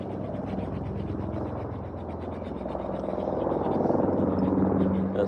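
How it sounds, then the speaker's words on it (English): A United States Army helicopter flies overhead, its steady rhythmic rotor chop growing louder toward the end, with a voice talking over it outdoors. "that looks like a traffic helicopter"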